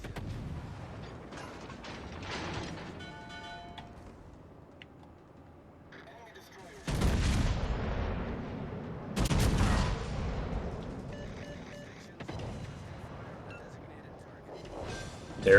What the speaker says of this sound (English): the Warspite's probably going to shoot over my head